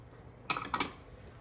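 A spoon clinks a few times against a pot while dried shrimp and minced ginger are stirred into squid porridge, giving one sharp tap and then a quick double clink in a quiet kitchen.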